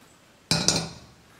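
Roasted semolina (rava) tipped from a metal kadai onto a plate: two quick metallic clinks of the pan against the plate followed by a short sandy slide, close and fairly quiet with no talk.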